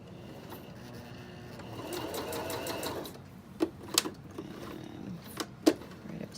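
A sewing machine stitches through foam to make it look like leather, running in a steady rapid whirring burst that stops, followed by a few sharp mechanical clicks and knocks as the work is turned with the needle down.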